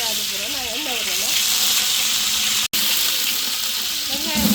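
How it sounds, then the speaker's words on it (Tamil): Onions sizzle and fry in a hot pan for tempering, a continuous bright crackling hiss, close and steady, with a brief cutout midway. "வெங்காயம் போட்டு தாளிக்க போகிறோம்."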